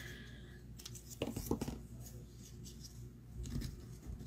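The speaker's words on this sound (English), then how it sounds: "that's going to get cut and the other one is going to get cut" Scissors snip through coloured card stock in red and green for handmade cards, a few crisp close cuts clustered together with a quiet voice speaking in between.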